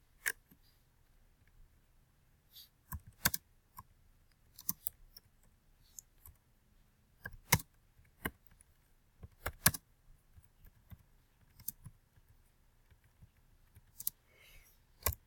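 Sparse, quiet clicks of keys on a computer keyboard, typed in short irregular runs with pauses between them.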